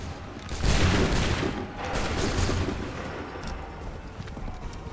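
A musket volley fired on command rings out in Assassin's Creed III, a ragged crackling burst of many shots together followed by a rumbling tail, fairly loud amid battlefield noise.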